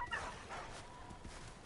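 A black dog barks and yips in the Far Cry Primal video game, a few short close barks layered over busy game ambience.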